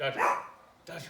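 A dog barks a few times at home, loud and close, while a person calls out over it during a kids' basketball dribbling lesson.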